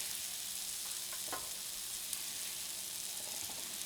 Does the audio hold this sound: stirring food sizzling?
yes